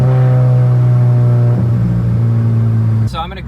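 A turbocharged MK6.5 GLI with an IS38 turbo swap at 28 psi boost accelerates hard in 2nd gear from 20, its engine note rising loud and close before a sudden shift or lift near the end.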